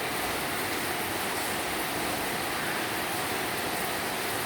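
Hail and rain fall together in Kuwait, a steady dense hiss with no distinct separate impacts, moderately loud and continuous throughout, with no voices.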